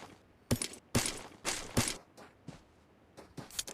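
Bursts of gunfire in PUBG on the Livik map, with sharp, loud cracks spaced irregularly: single shots and short volleys with brief gaps between, and no talk over them.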